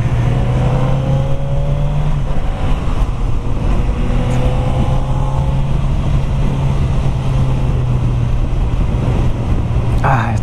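A Suzuki GSX-S1000F motorcycle engine drones loud and close on a test ride, a steady low hum with shifting tones as it rolls along, wind rushing around it and a rider speaking over the top.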